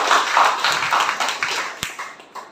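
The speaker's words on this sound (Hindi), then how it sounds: "जोरदार तालियां" Small ashram gathering giving a short burst of clapping that starts strong and fades over about two seconds into a few scattered, sharper claps, fairly close and without talk.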